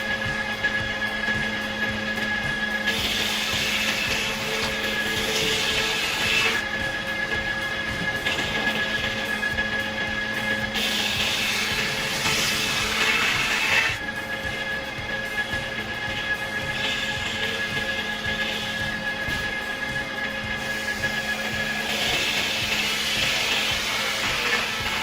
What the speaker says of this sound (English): Observe the precision and speed with which the saw slices through the logs, effortlessly dividing them into uniform planks